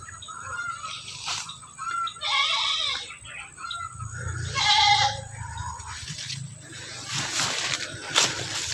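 Goat bleats in an outdoor rural area in the Philippines, several calls rising over steady ambient noise with birds and faint voices around.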